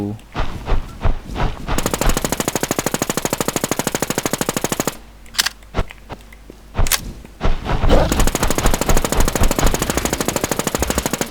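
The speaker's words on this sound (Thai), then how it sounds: "มาเลยครับแล้วพี่จะยิงให้ดู" Rapid automatic gunfire rattles in long, loud bursts while shooting bosses in the video game Infestation The NewZ, broken by short pauses and single shots.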